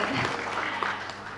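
Audience applause at a provincial quiz contest final, a steady wash of clapping that fills the whole moment at moderate level, with no voices over it.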